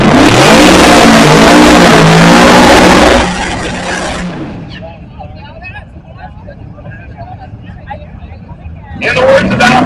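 A car doing a burnout at a Bradenton drag event: a loud engine held high at full rev, then easing off into a distant rumble under crowd chatter, with another roar rising near the end.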